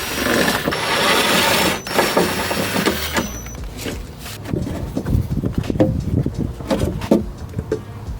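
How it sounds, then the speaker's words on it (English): Screws holding a foam block inside a BMW E90 3-Series door are removed with a ratcheting tool, producing a loud, buzzy spin and then a run of close, rapid clicks and rattles. "remove this foam block right here, which is held in by two of these screws here"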